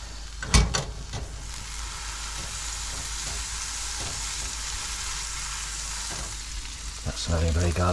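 Lazy garlic sizzles in a pan for a mussel sauce, cooked aboard a sailing boat in Loch Spelve. A steady, close frying hiss is broken by a few stirring clatters, and a low background rumble swells near the end.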